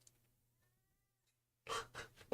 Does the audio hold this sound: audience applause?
no